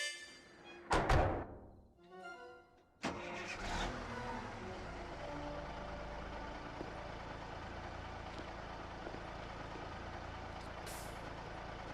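A truck in Tomb Raider 3's High Security Compound level lets out a hiss and a heavy clunk, then its engine settles into a loud, steady rumble as it pulls away. No one speaks.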